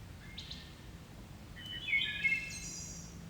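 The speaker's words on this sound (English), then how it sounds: "I'm told that bird is a wood thrush." A distant wood thrush sings a few fluting, whistled phrases over a steady low outdoor hum, faint and unhurried.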